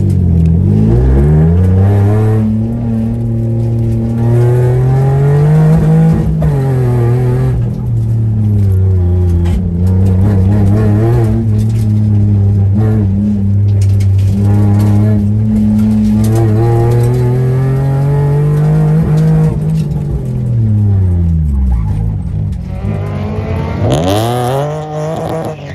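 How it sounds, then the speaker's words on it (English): A manual Mitsubishi Eclipse at an autocross event, its engine droning loud and close and rising and falling in pitch as it accelerates and lifts through the course, with no talk over it. "I'll put in a few clips here of me autocross racing."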